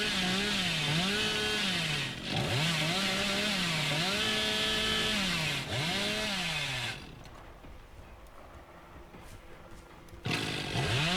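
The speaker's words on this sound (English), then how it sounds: "as I use the chainsaw, the meter goes up" Hillbilly's chainsaw revs continuously in a horror video game, a loud buzzing whine rising and falling in pitch across several surges, then cutting out to a quieter stretch before roaring back at the end.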